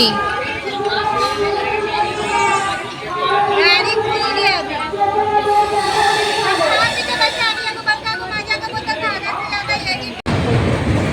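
Inside a coach of the Dhauli Express (12821) running from Howrah toward Puri near Kolaghat, wheels rumble steadily on the rails under loud passenger chatter, ending with a sharp clunk.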